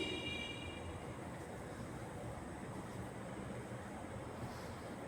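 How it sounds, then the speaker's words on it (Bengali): Onions fry in a pan with salt for a spicy chutney, giving a soft, steady sizzle that stays even throughout and quite faint, with no voices. "লবণ দিয়েও আরও কিছুক্ষণ পেঁয়াজটাকে আমি ভেজে নিচ্ছি"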